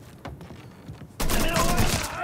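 Gunfire in the Mafia 3 video game: a sudden loud burst of rapid shots erupts after a quieter stretch and fills the rest of the moment.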